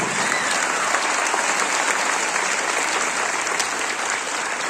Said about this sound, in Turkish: Büyük bir alkış istiyorum öncelikle.